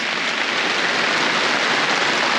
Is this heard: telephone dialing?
no